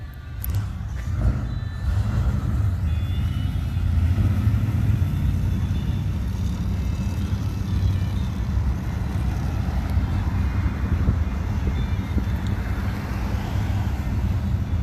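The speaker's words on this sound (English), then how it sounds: "let the cars roll out here" Steady low traffic rumble of Tri-Five era cars moving off from a car show and driving past, with engine drone and faint higher tones throughout, continuous and moderately loud.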